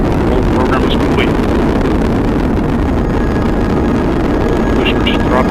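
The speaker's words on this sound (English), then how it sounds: "And the Atlas rocket carrying OSIRIS-REx has gone supersonic." Atlas rocket engines during the OSIRIS-REx launch, a loud steady broadband roar with no pauses throughout.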